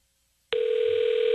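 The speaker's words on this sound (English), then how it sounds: "All right, we're calling him back." A telephone dial tone while calling back, a steady continuous electronic hum that starts abruptly after a short silence and holds clearly and alone.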